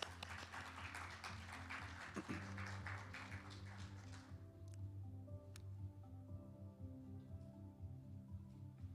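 Applause from a conference audience welcoming a speaker at an electric vehicle council assembly, dense scattered clapping that fades out after about four seconds, leaving a low steady hum and a couple of faint knocks.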